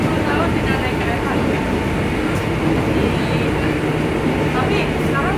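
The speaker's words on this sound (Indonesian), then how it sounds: "Kita di kereta." Inside a passenger train heading to Bogor, a steady loud rumble of wheels and carriage noise runs throughout, with people talking over it.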